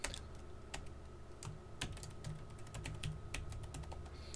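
Keys clatter on a computer keyboard in quick, uneven bursts of close, crisp clicks as a password is entered, with no voices over them.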